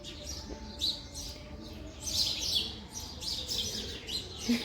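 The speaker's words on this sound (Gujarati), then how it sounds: "અને ત્યાં સામે ઉપર બે પોપટ પણ આવી ગયા છે" Two parrots high up near a family home, giving repeated sharp chirps and squawks in short bursts, moderately distant over faint background hum.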